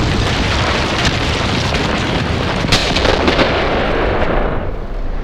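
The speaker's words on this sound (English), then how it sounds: "my artillery is starting to land" Artillery shells landing in a village in the Graviteam Tactics war game, a dense rolling barrage of loud booms and crackling blasts, continuous and close, with one sharper impact standing out midway.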